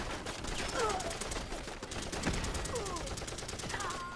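Belt-fed M60 light machine gun in Fallout 4 firing a sustained burst, a dense rapid rattle of shots running throughout with short metallic tones breaking through, loud and close.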